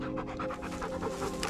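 A tired dog panting outdoors, a fast steady rhythm of short huffing breaths, close and continuous with no talking.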